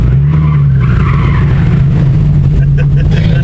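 An LSA V8 swapped into a Honda S2000 runs through its new mufflers, giving a loud, deep, continuous engine and exhaust rumble close by, with voices talking over it.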